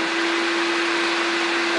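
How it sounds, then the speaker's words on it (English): Shop vacuum running with a power head attached, a loud steady motor whine with a strong constant tone and airy rush, close up and uninterrupted. "I switch the vacuum on, then I'm gonna plug the power head and do the job."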